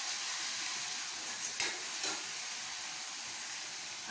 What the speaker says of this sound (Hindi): तो बस अब मेरा मसाला देखो भुन गया है, क्योंकि इसमें तेल अलग हो गया है